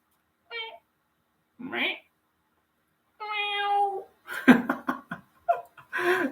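A man imitates a cat with several short, high-pitched vocal meows, spaced apart, then breaks into laughter and talk close to the mic.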